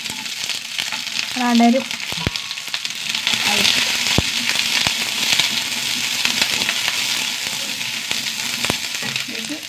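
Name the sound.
onions and curry leaves sautéing in a pan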